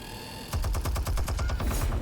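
Rapid turret gunfire in the video game Batman: The Telltale Series, a fast rhythmic burst of about fifteen loud shots starting after a half-second pause and continuing to the end.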